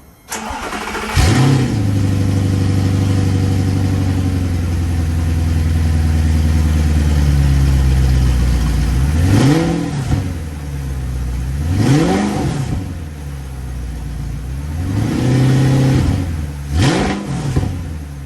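A 2008 Audi R8 with its V8 engine cranks and fires up, settles into a steady idle, then gives four sharp revs that rise and fall, loud and close with no talking.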